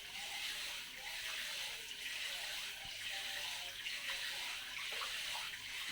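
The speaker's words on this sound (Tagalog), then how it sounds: "Yan o, yung gripo namin o may tulo." A leaking kitchen faucet with a loose thread runs steadily, giving a continuous close hiss of flowing water into a sink with no pauses.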